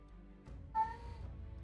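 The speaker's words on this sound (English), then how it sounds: "You're gonna hear Kitty." A cat gives a single short, quiet meow indoors, with no speech and only faint room hum around it.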